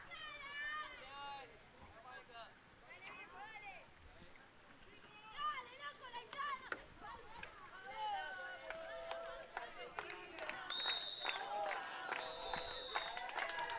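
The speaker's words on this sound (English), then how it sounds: "The Argentina crowd has gone into a chant now, cheering the team on" An Argentine crowd at a canoe polo world championship chants and cheers at a distance, rising toward the end, with a commentator talking over it and whistle-like tones near the close.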